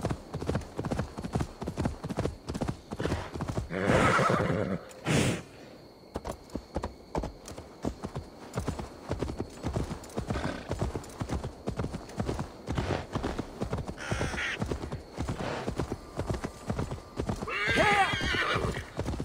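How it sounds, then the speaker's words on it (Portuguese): Horse galloping with steady clip-clop hooves and a neigh, in Assassin's Creed Valhalla; continuous hoofbeats throughout, with a brief whinny near the middle and game ambience. "Bora cavalinho, bora cavalinho."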